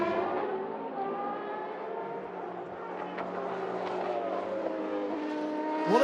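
A race car at the Qatar 1812km race passes with a sustained high engine whine that shifts pitch as it goes by, fairly loud and steady for several seconds, with no voices.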